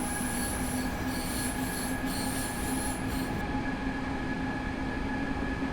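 A DB BR426 train accelerating at full throttle in Train Simulator 2020, a dense continuous rumble of rail running with a steady motor whine and tonal hum, loud and unbroken throughout.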